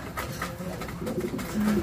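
Soft cooing and low murmuring calls from a brown racing pigeon close by, with a faint rustling background.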